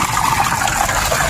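Water from the Lake Sebu water system at Lake Lahit gushes in a steady, loud, unbroken rush with no pauses.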